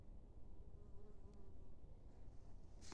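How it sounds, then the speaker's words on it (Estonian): Mosquito whining faintly close by outdoors, a thin steady buzz over low background rumble for a few seconds, with a brief sharper rustle near the end. "Ma näen, et sääs tuli siia poole"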